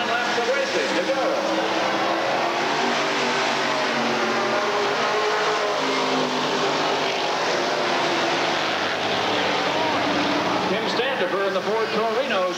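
Ford Torino stock car and other race cars roaring around a short oval track at a night race, a continuous engine drone with rising and falling passes under a commentator's steady play-by-play.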